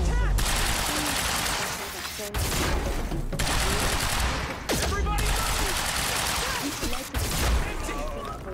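Rapid sustained gunfire from the video game Quantum Break, dense bursts running nearly continuously with brief gaps, loud and close, with a voice speaking over parts of it.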